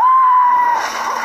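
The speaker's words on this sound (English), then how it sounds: "That scream." A high, sustained scream from the Sonic the Hedgehog movie trailer, loud and steady for under a second before breaking into a rougher, noisier cry.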